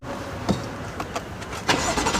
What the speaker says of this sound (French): Un joli petit son démarrage